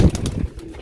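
Pigeon for sale giving a short, close, low coo, a brief throaty burble that fades within a second.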